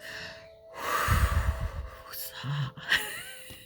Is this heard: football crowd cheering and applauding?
no